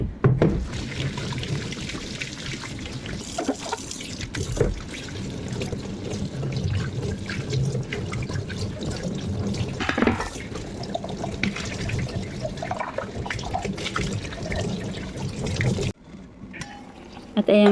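Dishes are washed under a running tap in a home kitchen sink, with a steady stream of water splashing and gurgling close by, dropping off briefly near the end before the flow returns.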